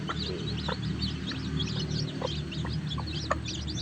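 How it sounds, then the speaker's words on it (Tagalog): Chicks in a small backyard farm peep and chirp in quick, light bursts over a steady low background hum, fairly faint and continuous, with no talking. "Ang cute at magaganda po ang aking mga sisiw ngayon"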